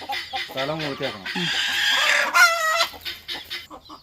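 A chicken clucks and squawks loudly up close in a rapid, agitated series, with a harsh drawn-out cry partway through, as it is dipped into medicated water.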